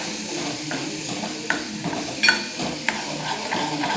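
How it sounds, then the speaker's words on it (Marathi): Masala spices sizzling and frying in hot oil in a pan, a steady crackling hiss with a few sharper pops and light stirring scrapes, close and moderately loud, no talking. "मसाला चांगला तेलात फ्राय होतोय"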